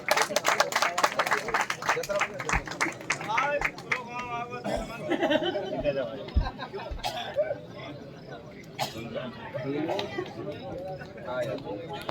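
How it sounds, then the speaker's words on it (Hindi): Audience clapping breaks out at a bhajan singing competition prize ceremony in Abdullaganj, with scattered claps, crowd chatter and a voice speaking over it, the clapping strongest at the start and thinning out. "ताली बजवा, ताली बजा भैया मां साहब के लिए"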